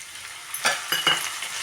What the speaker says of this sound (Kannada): ಇವಾಗ ನಾನು ಟೊಮೊಟೊ ಹಾಕ್ತಾಯಿದ್ದೀನಿ